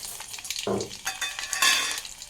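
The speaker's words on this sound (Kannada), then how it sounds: "ಗ್ಯಾಸು ಚಟ್ಪಟ ಅನ್ನೋ ಟೈಮಲ್ಲಿ ನಾನು ಸ್ವಲ್ಪ ಬೆಳ್ಳುಳ್ಳಿ ಕುಟ್ಕೊಂಡಿದ್ದೆ ಸ್ವಲ್ಪ ಅದನ್ನ ಹಾಕಿದ್ದೀನಿ" Crushed garlic fries in a pan over a low flame while bread toast is being made, producing a short, soft sizzle with a stirring scrape.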